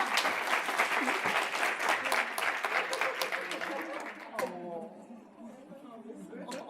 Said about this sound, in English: Can you give them a round of applause again?